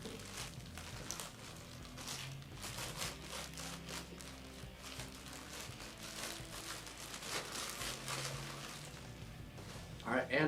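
Packaging paper crinkles and rustles steadily through an AR-15 upper receiver unboxing, with a box nested inside a box, busy and close throughout with scattered sharper crackles and low background noise.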